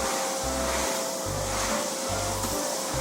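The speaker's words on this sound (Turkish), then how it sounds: "Sen şimdi makinayı çalıştır güzelce her yeri süpür babacım bakalım." A household vacuum cleaner sweeping up spilled Pringles chips from the floor, a steady continuous hum with repeated low thumping pulses as it is pushed back and forth.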